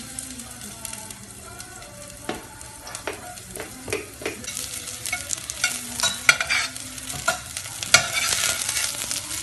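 Garlic and onion sauté in hot oil, a steady crackling sizzle broken by sharp clicks and scrapes of a utensil stirring the pan, close and fairly loud with no voices.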